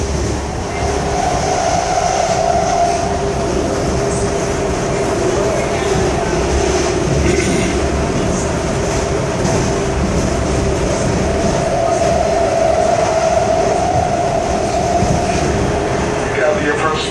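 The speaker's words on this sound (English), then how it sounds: "Another train passing by." A subway train rolls past steadily throughout, a continuous rumbling roar with faint wheel clatter on a Santa Clara line, near and loud with no talk over it.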